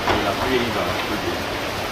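Steady patter of rain, a soft continuous hiss with scattered droplets, fairly close and even throughout.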